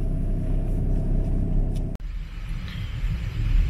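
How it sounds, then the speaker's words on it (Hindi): A car shuttle train carrying cars aboard begins to move near Zermatt, a steady low rumble and drone with a brief clunk partway through, heard from inside a vehicle. "ट्रेन स्टार्ट हो गई है।"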